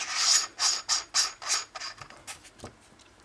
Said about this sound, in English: you screw it on there and this is for 40 millimeters